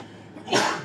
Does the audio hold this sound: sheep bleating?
no